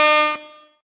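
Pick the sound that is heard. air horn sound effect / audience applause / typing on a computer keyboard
air horn sound effect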